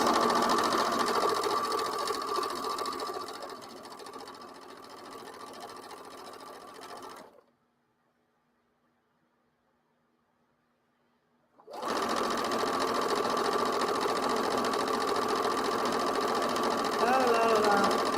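A sewing machine stitches in a fast, steady mechanical whir, falls silent for about four seconds, then picks up again at the same close, even pace.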